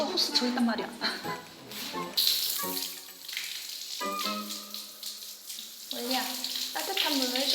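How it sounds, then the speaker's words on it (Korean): A therapy horse is showered with cold water from a hose, a continuous rushing spray of varying strength, with a voice speaking over it. "말은 사람보다 체온이 높고 뛰다 보면 열도 올라 찬물로 샤워하는데요"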